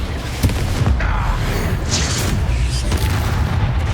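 A Confringo blasting spell explodes in Hogwarts Legacy, a loud rumbling boom with crackling blasts and combat noise piling up over a few seconds, dense and close.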